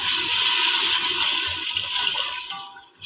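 Water poured from a glass, about one to one and a half glassfuls, into a pressure cooker for a lentil and minced meat dish, giving a steady, loud rushing splash that runs for about three seconds and eases off near the end.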